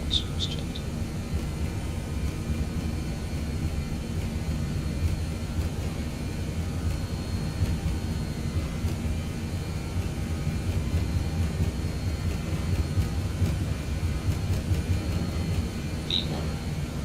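An airliner's jet engines roar in a steady, even drone during the takeoff roll from Malaga in Microsoft Flight Simulator 2020. The sound stays constant and fairly loud, with no voices over it.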